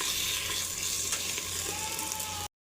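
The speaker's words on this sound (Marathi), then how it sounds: "ते चरबी छान आपण हे तेल सुटस्तवर परतून घेऊया." Goat fat renders and fries in a clay pot for a village-style mutton curry, giving a steady, close sizzle with faint stirring before it cuts off abruptly.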